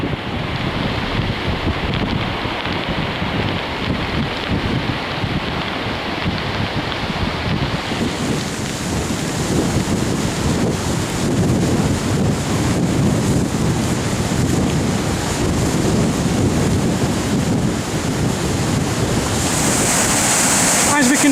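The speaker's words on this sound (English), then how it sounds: "Caldon Snout's a pretty impressive little waterfall." A steady, roaring wash of falling water from the Caldon Snout waterfall fills the scene, broad and continuous, with gusts of wind buffeting the microphone throughout.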